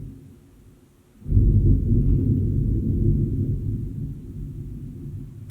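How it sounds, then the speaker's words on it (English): Deep, loud rumble of thunder that rolls in abruptly after a quiet second and stays sustained and heavy to the end, with no voices, presented as sound from Mars. "That is not the sound of Mars. That is the sound of thunder."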